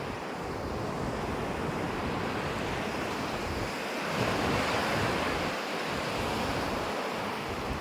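Steady roar of surf washing onto a shore, with a few swelling wave surges and wind rushing across the microphone throughout.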